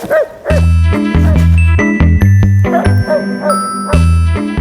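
Several dogs bark repeatedly and loudly close by at a kennel housing about 31 dogs, with yips and a few high ringing tones mixed in.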